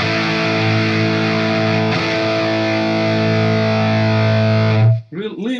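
A Mesa Boogie Mark V guitar amp plays a sustained, heavily distorted chord with thick, saturated lows that rings loud and steady for about five seconds, then cuts off as a voice starts talking.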